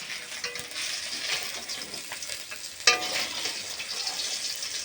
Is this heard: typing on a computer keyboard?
no